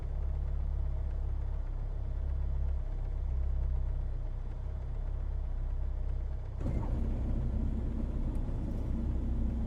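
Low, steady engine idle of a DA40-XLS in Microsoft Flight Simulator 2024 after landing, rumbling at an even level before shifting to a slightly different tone near the end.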